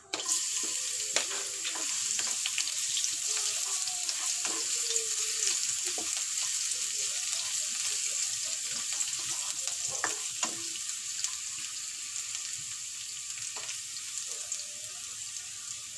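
Garlic dropped into hot cooking oil for pork pochero sizzles in a steady, close hiss that runs the whole time, with scattered clinks and stirring scrapes on top.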